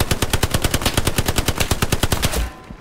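Sustained machine-gun fire in the World War II shooter Hell Let Loose, a loud, steady rapid stream of close shots in even rhythm that cuts off near the end.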